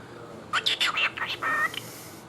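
A cockatiel gives a quick series of bright chirping whistles and calls, close and moderately loud, lasting about a second before quiet returns.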